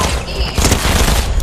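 Fortnite golden dual micro SMG firing, a loud, dense stream of rapid overlapping shots in one continuous burst with explosive impacts.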